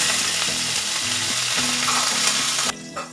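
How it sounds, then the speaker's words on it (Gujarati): Curry leaves and dried chillies fry in hot oil with a loud, crackling sizzle that runs continuously and then drops away sharply near the end. "આપણે મીઠા લીમડાના પત્તા નાખીશું આપણે બે હુકા મરચાં નાખીશું"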